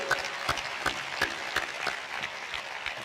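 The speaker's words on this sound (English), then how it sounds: "Give her a round of applause, isn't she amazing?" Scattered clapping from an audience, with several sharp claps standing out over a softer bed of applause, fairly quiet and distant.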